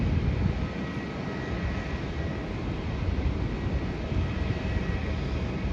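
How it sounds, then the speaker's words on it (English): A Virgin Australia Boeing 737 arriving from Brisbane on its landing approach, a steady broadband engine roar holding at a constant level throughout, fairly close and with no voices over it. "The next flight to land is coming in from Brisbane, and that is Virgin Australia Boeing 737"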